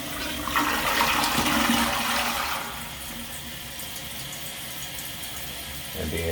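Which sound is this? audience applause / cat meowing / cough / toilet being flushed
toilet being flushed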